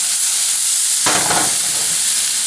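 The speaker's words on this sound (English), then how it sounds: "We are caramelizing the onions." Onions caramelize in a hot pan with a loud, constant frying hiss and sizzle, and a sudden burst of crackling about halfway through as they are stirred or moved.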